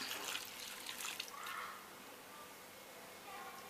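Water poured from a bowl into a pressure cooker holding pumpkin for payasam, a close splashing trickle that is strongest at the start and then settles into a steadier, softer flow.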